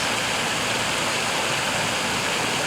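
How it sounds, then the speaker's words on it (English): Running water from a garden waterfall at a cemetery gives off a continuous even broadband rush, steady and fairly loud with no other sounds. "Running water"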